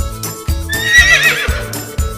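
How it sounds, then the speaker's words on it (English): A horse whinnies loudly and close up, with a rising and falling shrill call over rhythmic low hoof clip-clops throughout the short clip. "This is horse. It makes neigh-neigh sound."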